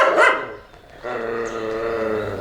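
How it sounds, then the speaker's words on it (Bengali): A dog gives a short bark followed by a drawn-out whining yelp, close and fairly loud, with background noise throughout. "ডগি"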